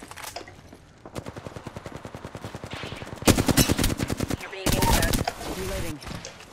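Rapid automatic gunfire in Apex Legends: long runs of evenly spaced shots that grow louder and denser, broken by short gaps. Voice callouts are heard among the shots.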